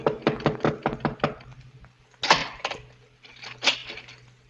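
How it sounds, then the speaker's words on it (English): A knock at a door in an old-time radio drama, two bursts of sharp raps with a pause between, fairly close and loud against a low steady hum. "the knock came."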